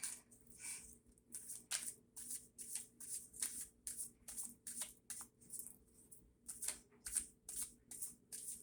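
Tarot cards are shuffled by hand in soft, quick, repeated riffles and flicks. The sound is faint and close, with no one speaking.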